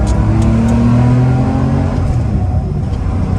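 Porsche 911 with a 2.7-litre engine, heard from inside the old car, droning loudly and steadily as it pulls through the revs in a gear change to second, with no talking.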